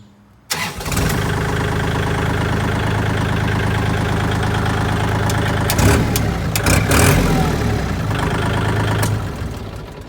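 A 2017 Kubota L4018 tractor diesel engine starts up and runs steadily nearby, a loud continuous rumble with a few rough bursts of revving later on, and no voices.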